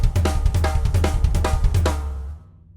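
A drum kit floor tom and snare alternate in a quick, steady right-left pattern, close and punchy, with about a dozen strokes before the last hit rings out.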